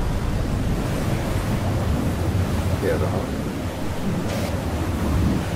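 Howling sandstorm wind on an alien planet in the game Lifeless Planet, a steady loud broadband roar with gusty rumble throughout, a voice speaking briefly over it.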